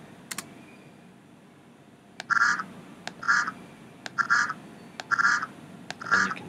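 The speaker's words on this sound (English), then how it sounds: "that's basically how we get the duck to quack" A cartoon duck quack sound effect plays five times at roughly one-second intervals in the Scratch program, each quack clear and close, with a couple of faint mouse or keyboard clicks between them.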